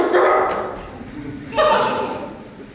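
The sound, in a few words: dog barking, sounding like 'Doc'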